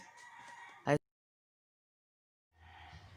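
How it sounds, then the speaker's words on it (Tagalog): A rooster crows loudly once, a short sharp call after softer clucking, then silence before more distant fowl noise returns. "Sabaan ni mga manok, oy!"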